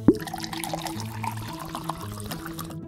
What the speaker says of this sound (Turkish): Döküyorum bardağıma.